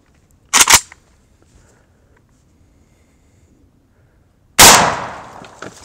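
An AK rifle fires down through a house floor of red oak flooring over subfloor and drywall: two sharp, loud gunshots about four seconds apart, the second with a longer ringing tail, with quiet in between.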